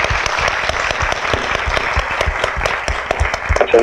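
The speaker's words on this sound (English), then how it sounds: "Let's applaud." Audience applause fills a conference panel session, dense and steady clapping from many hands at close range with no talk over it.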